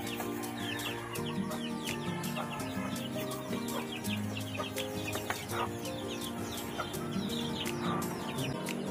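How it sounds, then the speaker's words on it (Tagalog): Pure native chickens cluck and chatter steadily, with a rooster among them and small birds chirping nearby, a busy continuous flock sound with no talking. "Yan yung mga pure native chicken guys."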